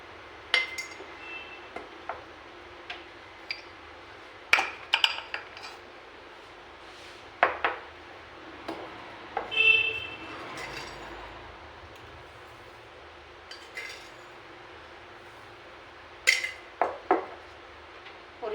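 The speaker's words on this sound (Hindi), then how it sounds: "इतने अपने बर्तन धो लेती हूँ मैं, अपने बर्तनों को वॉश कर लेती हूँ" Dishes and utensils being washed at home: irregular clinks and clatters of metal and glass scattered over a quiet running-water background, close by with no talking.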